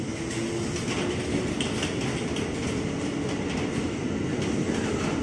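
KRL commuter train rolling through Manggarai station, a continuous heavy rumble with rhythmic rail clatter and a faint high wheel whine, close and steady throughout with no voices.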